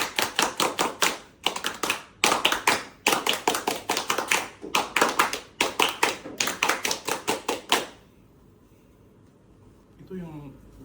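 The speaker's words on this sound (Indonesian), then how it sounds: "3 kali tepuk pramuka." Group of people doing the Indonesian scout clap, tepuk pramuka, three rounds of rapid rhythmic clapping in quick bursts for about eight seconds, then a quiet pause with a brief voice.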